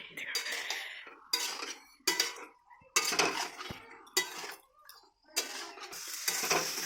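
A utensil stirs chicken curry with potatoes in a pot, Bengali style, giving repeated scraping and clinking bursts separated by short quiet gaps, close and with no talk.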